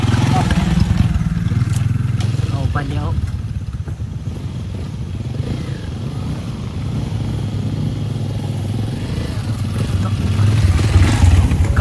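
A loaded motorcycle on the move, its engine a steady, loud drone with some clatter, while people talk over it throughout.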